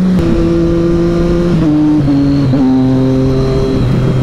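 A Triumph Street Triple 675 motorcycle accelerating hard on a straight, its loud, close engine whine climbing in pitch and dropping with three quick, smooth upshifts in a row.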